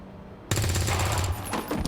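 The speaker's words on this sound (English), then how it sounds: "Alt Nick is about to shoot at these people" A character in a sci-fi space war game opens fire with a sudden, loud burst of rapid gunfire. The shots run on densely with no break for well over a second.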